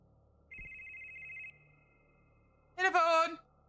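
A telephone in the horror game Demonologist gives one clean electronic ring tone lasting about a second. After a short quiet stretch, a voice calls out loudly and briefly.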